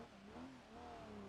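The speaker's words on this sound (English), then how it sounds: "I don't know why I was revving her up there" An engine revs in the BeamNG.drive video game during career mode, a steady rising and falling whine heard up close with no voices over it.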